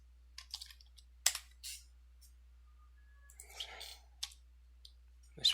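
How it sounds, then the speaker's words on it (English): Sharp computer mouse clicks come singly and in quick pairs at irregular intervals, close and fairly loud against near silence, while someone works in a spreadsheet. "I'm just so used to clicking"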